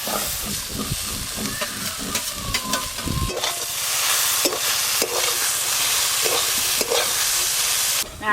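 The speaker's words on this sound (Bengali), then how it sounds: "খুব ভালো করে নেড়ে নিয়েছি, এবার ভেজে রাখা চিংড়ি মাছগুলো দিয়ে দেবো" Sundarbans crab curry stirred in a hot pan, with scraping spoon strokes over a bubbling sizzle. Fried shrimps then go in and the frying hiss swells to a steady, louder sizzle with a few sharp clinks.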